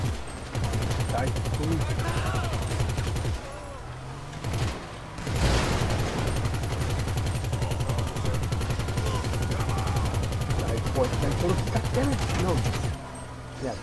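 Sustained minigun fire in GTA Online on PS4, a rapid continuous rattle lasting most of the stretch with a brief break partway, loud and close under excited talk from several players.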